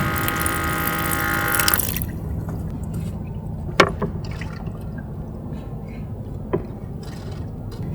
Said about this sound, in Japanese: 手洗いたいから結局水出す羽目になっちゃう